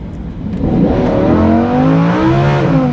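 A Lamborghini Huracan accelerates hard, its engine note climbing steadily in pitch through the gears, loud and close with no voices.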